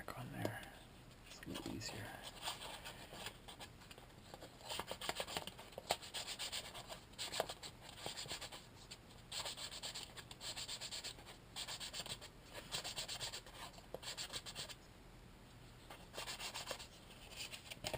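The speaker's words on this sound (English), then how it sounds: "Hold the piece and move the sandpaper." Sandpaper rubs back and forth against a small plastic turret piece from a T-34/85 scale model. The close, quiet scratching strokes repeat in an uneven rhythm with brief pauses between them, and faint talk can be heard in the background.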